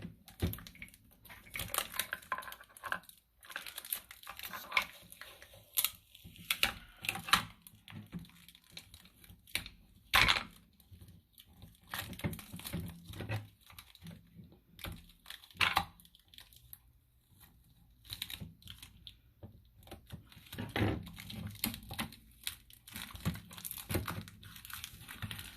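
Packing tape is torn and peeled off a cardboard box in irregular bursts of crinkling, ripping and crunching, close and moderately loud, with short pauses between pulls.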